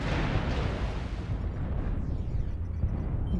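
Incoming missiles explode in MechWarrior Online as a dense, loud, rumbling roar of blasts that runs continuously, close and heavy, and eases slightly near the end.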